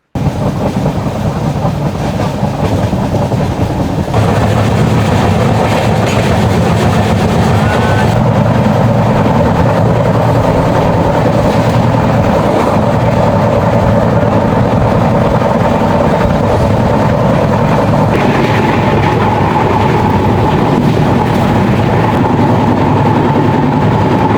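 A Konkan Railway train on the Mumbai to Devgad route rumbles along in a continuous loud roar, heard from on board, with a steady low drone and shifting rattling textures throughout and no voices.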